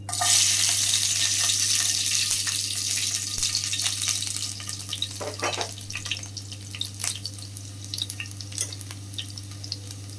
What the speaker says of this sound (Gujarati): હવે આપણું ઓઇલ ગરમ થઈ ગયું છે તો એમાં કળીનો વઘાર કરીશું